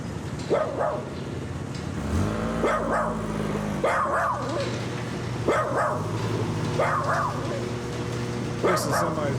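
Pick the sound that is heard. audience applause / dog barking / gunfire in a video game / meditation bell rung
dog barking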